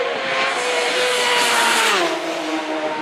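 A superstock racing motorcycle at the Isle of Man TT roars past on its final lap, loud and close, its engine note sliding downward as it goes by.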